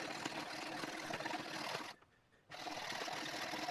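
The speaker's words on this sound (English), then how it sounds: "1/8 inch material takes forever to saw through" Jeweler's saw cutting through 1/8 inch thick material, a steady, close rasping buzz of rapid strokes that runs continuously, breaks off briefly for about half a second, then resumes.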